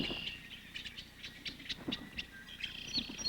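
Male blackbirds sing in a marsh: a scatter of short, bright chirps and trills, fairly faint and somewhat distant, repeating in an uneven rhythm over a soft, steady background hiss.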